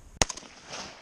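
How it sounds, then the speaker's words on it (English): A single sharp gunshot fires a full metal jacket round at a kolpak helmet, one loud abrupt crack followed by a short ringing tail outdoors. "Now I will try to shoot the helmet, which somewhere around there, and it will be FMJ bullet."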